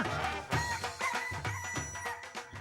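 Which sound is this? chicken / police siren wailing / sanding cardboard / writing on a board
chicken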